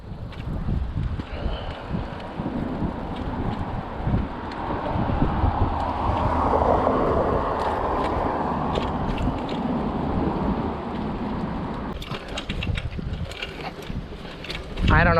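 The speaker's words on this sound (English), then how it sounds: "It's freezing, it's windy, it feels like it's gonna rain any minute." Wind buffets a chest-mounted camera on a cold, blustery bike ride through empty Playa Del Rey streets in Los Angeles, a steady loud rushing roar throughout with brief clatters toward the end.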